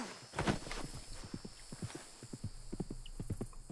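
Horse hooves clip-clop in a steady walking rhythm through Red Dead Redemption 2, with a brief whinny early on and faint game ambience beneath.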